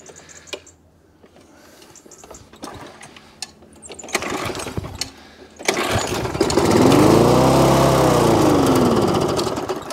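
A petrol lawn mower with a non-working drive is started after priming: quiet fiddling and a few clicks, then the engine catches and runs loud and close, revs rising and falling steadily.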